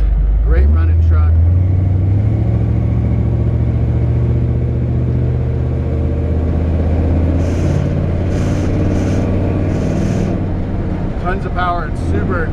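A 1954 Chevrolet 3100 truck engine with an aggressive exhaust revs up loudly at the start, then settles into a deep, steady rumble close by, with brief bursts of higher noise near the end.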